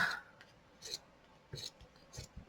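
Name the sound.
fabric scissors cutting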